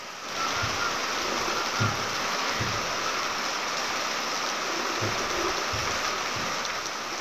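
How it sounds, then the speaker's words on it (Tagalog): Flowing water in Agusan Marsh, a steady, continuous rushing wash with a few soft low thumps underneath, heard alone with no voices. "Daming tubig."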